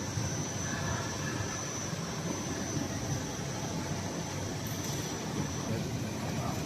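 A bubble wrap production machine runs with a steady, loud, broadband mechanical roar and whine, continuous and unbroken with no talk over it.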